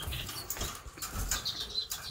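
Caged Japanese finches flutter in short bursts of soft wingbeats with a few faint chirps, close but quiet.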